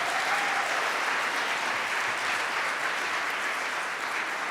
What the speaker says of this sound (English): I think we got to give them all a round of applause